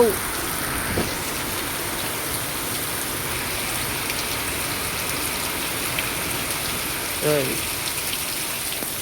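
Steady rain falling in a Gujarati village near Jamnagar, a constant even hiss with a brief voice near the start and another near the end.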